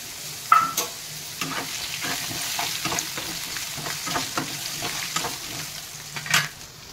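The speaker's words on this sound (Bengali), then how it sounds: "আলুগুলো ভেজে নেব" Potatoes frying in hot oil with salt and turmeric, a steady sizzle broken by repeated stirring scrapes in the pan, close and moderately loud with no talking.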